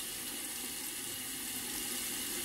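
Tap water runs steadily into a bathroom sink while it warms before a shave, a constant even hiss with no breaks and no voices.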